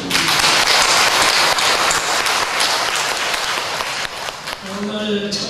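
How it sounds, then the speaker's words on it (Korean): A church congregation at a Sunday service applauds, a dense wash of many hands clapping that fades toward the end as a voice begins to speak. "선문대학교가 대한민국을 넘어서 세계를 이끌어 나갈 지도자 양성 코스로서 더욱 성장 발전하도록 큰 박수 한번 부탁드립니다"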